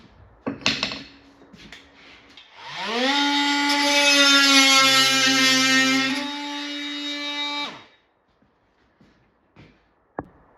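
A cordless grinder cutting a pin during arcade cabinet bodywork restoration spins up to a loud, steady whine that holds for about five seconds and then winds down, with a few light clanks before and after.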